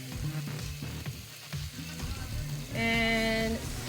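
Two beaten eggs scramble in a pan over cooked vegetables, giving a soft, close sizzle under stirring scrapes, followed by a brief tonal squeak from the pan near the end.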